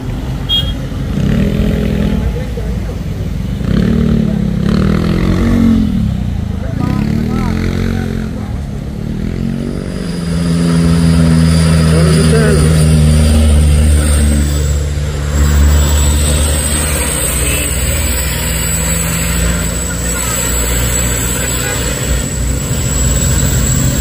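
Private cars stream along a road during the homecoming travel season, engines and tire noise passing close and loud one after another, with someone talking over the traffic.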